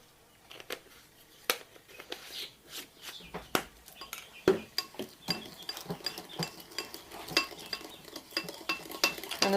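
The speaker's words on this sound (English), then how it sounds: "Use my dirty measuring spoon to give this a mix." A dirty measuring spoon stirs cinnamon sugar in a bowl while making snickerdoodle cookies, giving a run of light scraping taps and clinks against the bowl, close and fairly quiet, with no talk.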